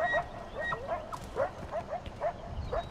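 Dogs in the Far Cry 4 video game bark in a quick series of about eight sharp, moderately loud yaps, spaced fairly evenly over a low background rumble.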